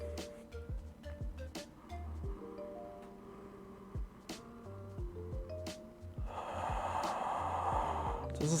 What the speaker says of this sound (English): So really try to breathe in deep.